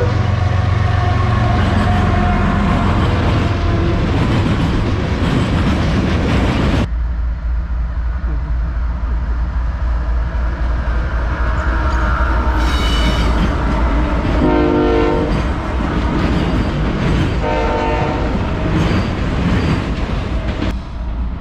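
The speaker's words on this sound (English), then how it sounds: "So hopefully we'll get a couple of videos of trains coming by here." A freight train passes loudly and steadily near the tracks in Folkston, Georgia, its wheels rumbling and clacking throughout, with two or three blasts of its horn late in the pass.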